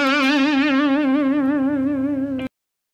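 A distorted electric guitar holds one note with a slight string-shaking vibrato, the pitch wavering steadily and gently, loud and solo before stopping suddenly.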